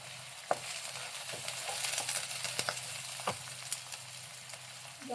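Onions and curry leaves fry in a pan with a soft, steady sizzle, punctuated by scattered clicks and scrapes as the spoon stirs them, fairly quiet and close.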